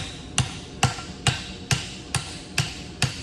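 Hammer blows on an anvil while a farrier shapes a straight bar horseshoe into reverse heel checks, seven sharp ringing strikes at a steady rhythm, close and alone with no talk.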